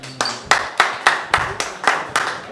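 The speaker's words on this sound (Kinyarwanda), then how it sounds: "murakoze cyane amashyi menshi kuri Damascene" Rhythmic hand clapping at a gathering in Kigali: about eight sharp, evenly spaced claps, close and crisp, with no voices over them.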